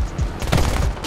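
Aircraft guns fire one short, rapid burst in the War Thunder combat game, a loud cluster of overlapping shots lasting about a second.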